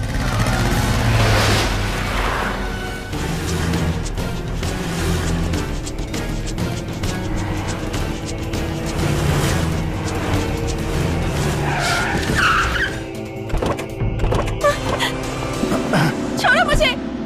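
A film car speeds off with screeching tire skids and revving engine noise, loud and continuous, mixed with dramatic music and people shouting.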